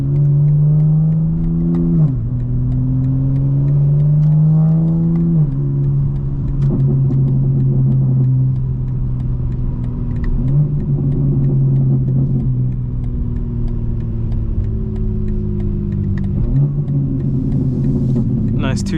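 A 2025 BMW M4 Competition xDrive in all-wheel-drive sport mode accelerates on the road, its engine note climbing through several gears in repeated rising sweeps, each upshift dropping the pitch before it builds again, loud and close from inside.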